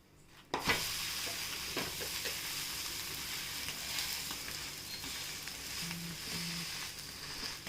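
A vegetable egg dosa roll sizzles on a pan right after being flipped. A sharp bump marks the flip, then a steady, close frying hiss continues with a few faint scraping touches and no talk.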